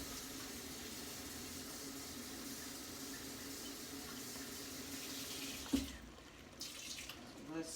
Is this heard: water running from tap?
yes